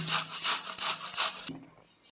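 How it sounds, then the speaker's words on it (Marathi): Raw green mango rubbed against a grater, a close rhythmic series of about five or six rasping strokes, then a brief quieter scrape as it stops, with no voices. "कैरी मी खिसून घेते आहे."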